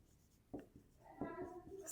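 Pen or pencil writing a math answer on paper, a few short scratchy strokes close up, faint and soft, with a quiet room hum underneath.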